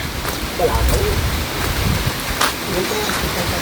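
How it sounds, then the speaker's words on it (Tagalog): Steady rain hissing in the background in rural Mindoro, Philippines, a constant wash of noise with a few louder patters, fairly loud and close. "Ayan na naman ang ulan guys."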